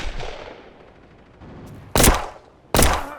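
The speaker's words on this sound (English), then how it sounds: "I saw there was an enemy inside the bunker with a pretty strange way of shooting a gun" Two loud, sharp bursts of enemy gunfire in a World War first-person shooter game, each a short close-range volley, separated by a brief lull with a faint earlier shot fading out.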